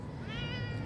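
A domestic cat gives a single drawn-out meow, close and fairly soft, alone without talk.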